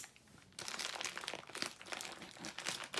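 Bubble wrap and paper packaging are unwrapped from a mail parcel, a close, steady run of crinkling and crunching that starts abruptly after a quiet moment and continues throughout.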